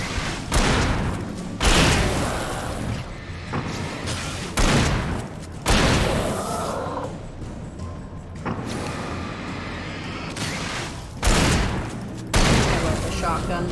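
Shotgun blasts in the Alan Wake video game, a series of heavy booming shots spaced a second or two apart, loud and close, with speech between and over them.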